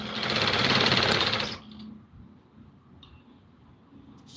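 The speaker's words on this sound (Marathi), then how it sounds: "इथे एक इंचावरती शिलाई मारून घ्यायची आहे या पद्धतीने हा नेफा बनवत आहे मी" An electric sewing machine stitching the waistband of a Patiala salwar, a close, fast mechanical whir for about a second and a half before stopping, followed by faint handling noises.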